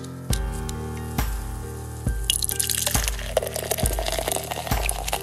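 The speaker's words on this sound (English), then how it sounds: "You hear that sound and you know that I'm pouring a beer." Beer pours into a glass, liquid gurgling and splashing in a run of rhythmic glugs that give way to a fizzing, foaming rush, close and alone with no talk.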